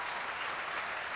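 Applause from a studio audience on a Turkish pop music talk show, dense steady clapping that fills the moment evenly and stays loud without a break.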